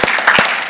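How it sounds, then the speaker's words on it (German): Brief clapping from a church congregation at an evening service, a short burst of a few claps in a room with no talk over it. "lass uns mal klatschen für die Online-Gemeinde"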